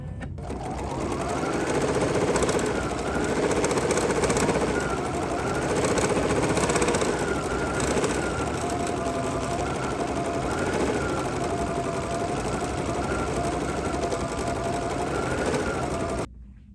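An embroidery machine stitching a poinsettia trivet runs with a loud, steady, rapid mechanical chatter close by for about sixteen seconds, then stops abruptly, with no voices.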